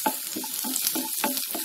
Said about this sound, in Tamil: ஆயில் போட்டு வெங்காயம் பூண்டு ரெண்டுத்தையும் போட்டு நல்லா அப்படி வதக்கிக்கோங்க.